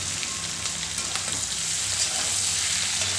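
Ginger, garlic and turmeric fry with onion and salt in a pan as they are stirred, a close, constant sizzling hiss with light scraping ticks and a low hum beneath.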